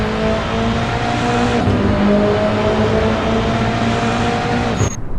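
GT race car at full throttle on a track during qualifying at the Australian Grand Prix, a loud sustained engine howl with shifting pitch as it passes, with a brief upshift break midway.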